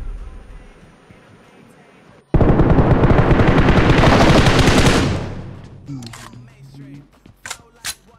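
Automatic gunfire in the mobile battle royale game BGMI erupts as one loud, sustained burst of rapid shots lasting a few seconds, then cuts off and leaves quieter game sounds and short sharp clicks.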